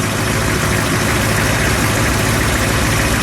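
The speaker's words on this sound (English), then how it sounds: "I just want to get a little exhaust note." A 1932 Ford four-door custom restomod hot rod engine idles with a deep, rumbling exhaust note, steady and loud throughout at close range.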